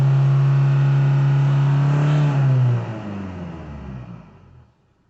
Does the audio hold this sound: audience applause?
no